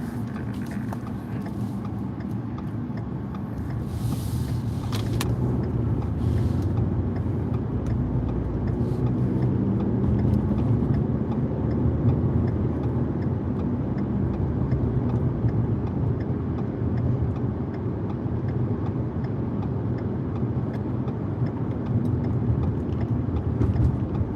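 Steady low rumble of a car driving along in traffic, heard from inside the cabin, with continuous road and engine noise throughout and no talking.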